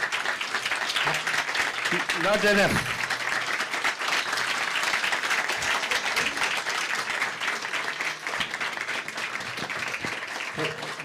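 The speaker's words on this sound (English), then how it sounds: "I think a big round of applause." An audience applauds after a lecture discourse, a dense, steady round of clapping lasting throughout, with a brief spoken voice and a shout over it early on.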